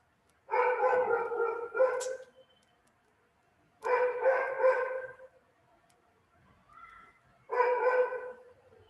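Neighbors' dogs bark in three separate clusters of rapid, fairly loud barks, with quiet gaps between them and no talk over them.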